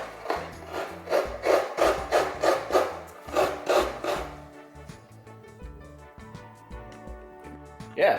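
Coconut being grated on a homemade wooden Chamorro kåmyu stool with a blade, giving a run of rhythmic rasping scrapes, about a dozen strokes, close and fairly loud, then quieter scraping with a final scrape at the end.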